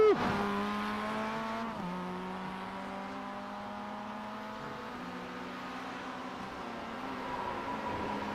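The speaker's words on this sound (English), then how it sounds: "Oh, I hear another exhaust behind you." A race car exhaust in the iRacing game at VIR drones steadily behind the player, its pitch dropping after a sharp start and sliding lower again midway, fairly quiet throughout.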